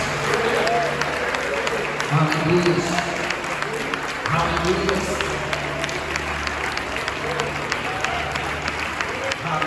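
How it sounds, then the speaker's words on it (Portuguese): A church congregation gives a strong round of applause, a continuous wash of clapping from many people, with a voice calling out over it. "Dê uma forte salva de palmas"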